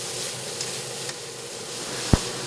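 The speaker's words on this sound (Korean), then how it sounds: "파스타면을 삶고 야채와 햄을 넣어 볶는 손놀림이 예사롭지 않습니다." Pasta stir-fried with vegetables and ham in a pan at a shared kitchen in Seoul makes a soft, steady sizzle, broken by a few faint utensil taps and one sharp clack near the end.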